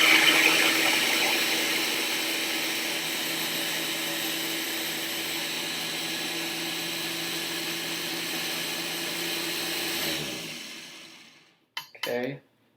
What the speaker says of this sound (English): We're just going to blend it for a little bit until the pulp is emulsified.